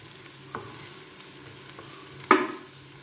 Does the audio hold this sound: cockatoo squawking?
no